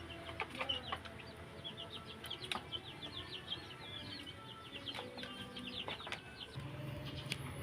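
Rhode Island Red chickens, hens and a rooster, cluck softly and repeatedly at close range, a string of short chattering calls with scattered sharp clicks and a faint background murmur.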